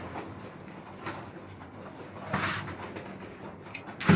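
Soft, low pigeon coos repeat over a steady background hiss, with a brief rustle and a sharp bump near the end.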